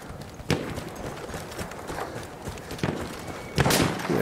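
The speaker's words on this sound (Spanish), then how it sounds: "Y aquí hay un caballo." A horse's hooves in a desert map of Battlefield 1 multiplayer: scattered hollow thuds and clops at moderate distance, loudest near the start and end, against a steady game ambience.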